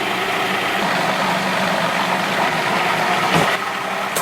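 A food processor whirs steadily as it blends two packages of light silken tofu, a dense continuous motor drone heard up close with a brief surge near the end.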